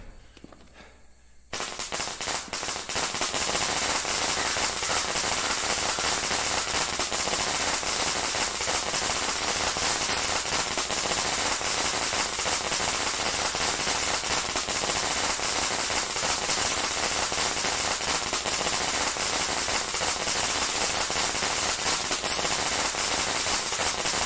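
Sparklers (maytap) thrown in the horror video game Shadow Corridor crackle and fizz as a dense, continuous spray of rapid pops that starts abruptly and stays loud and steady for over twenty seconds, with no talking.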